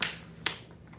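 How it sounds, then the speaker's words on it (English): A single sharp hand clap during a martial arts cross-stance drill, heard alone as a quiet, crisp snap with a short decay. "Unwind and clap."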